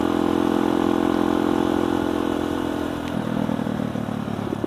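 A carbureted motorcycle's engine is pushed hard in fifth gear while riding up toward Puncak, Bogor, producing a continuous loud, gritty drone that shifts slightly in pitch near the end.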